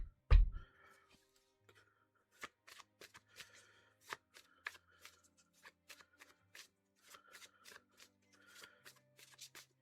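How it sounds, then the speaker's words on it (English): Oracle cards are shuffled by hand in a series of quick, soft riffling bursts, close and quiet in a still room, with one louder thump at the start and no talk. "let's get some oracle cards"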